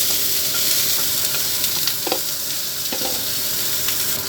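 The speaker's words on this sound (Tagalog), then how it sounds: "igisa ko na po yung aking fishball para mabango" Fish balls sautéing in a hot pan give off a steady, close sizzle. A few soft scrapes and stirs break through it, and no one speaks.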